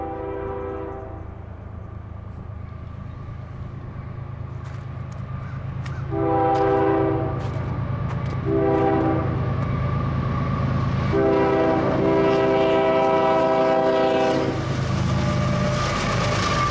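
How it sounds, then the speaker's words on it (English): A CSX Q-158 freight train rumbles steadily past close by. Its horn sounds a long blast, then a short one, then a final extended blast. "Symbol on that train is CSX Q-158."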